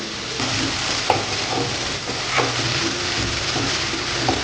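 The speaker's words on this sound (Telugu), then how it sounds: "ఈ తరిగి పెట్టుకున్న ఉల్లిపాయలు ఉన్నాయి కదా ఈ ఉల్లిపాయ ముక్కలు వేసేసుకుందాం" Chopped onions fry in butter with cumin seeds for pav bhaji, a steady close sizzle broken by occasional scraping clicks as a spoon stirs them in the pan.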